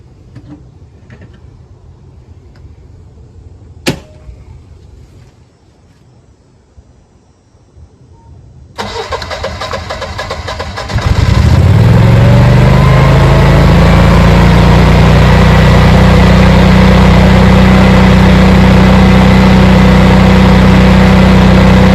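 After a quiet stretch with a faint click, a transfer switch whirs on with a rush, then a Generac Guardian 22kW home standby generator starts up and runs at a loud, steady drone.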